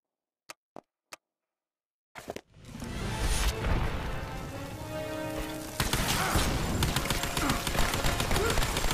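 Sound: gunfire in the video game Lara Croft and the Temple of Osiris

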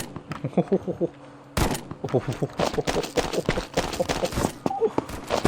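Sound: shotgun fire in video game Combat Master

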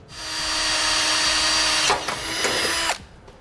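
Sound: drilling a hole with a small drill bit

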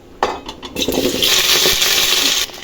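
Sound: okra added to hot oil with mustard seeds for sambar

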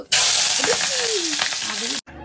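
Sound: onion added to frying garlic, cumin and chili

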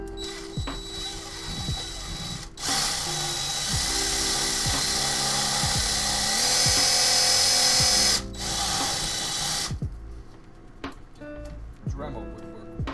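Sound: Dremel rotary tool cutting PC case

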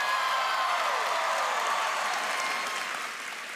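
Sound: audience applause at D23 Expo panel

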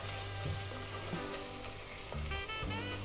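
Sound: frying injera fitfit with white spice in a pan

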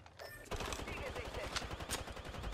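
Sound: gunfire at player in video game Apex Legends

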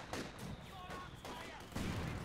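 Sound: machine gun fire in video game Company of Heroes 2

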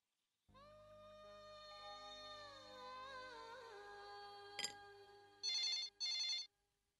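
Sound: telephone ringing

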